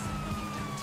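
A police car siren wails in the GTA 5 video game, a steady electronic tone that holds level throughout the short stretch.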